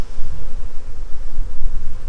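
A honey bee swarm buzzes loudly and steadily around a hive, a dense continuous drone close by with no voices.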